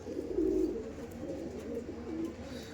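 Low, throaty cooing from a Punjabi pigeon comes in a couple of drawn-out phrases, near and moderately quiet over a soft ambient hum.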